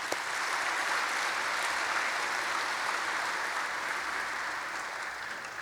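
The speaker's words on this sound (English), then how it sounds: "So big round of applause for them." Sustained audience applause at a 40th anniversary gala, a dense steady wash of clapping from a large crowd that carries evenly throughout, easing only slightly near the end.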